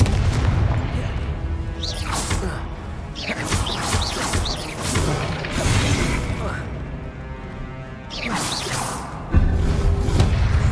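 Repeated blasting spells in Hogwarts Legacy, booming magical explosions with whooshes and crashes arriving in bursts, heavy and loud, interleaved with a spoken voice throughout.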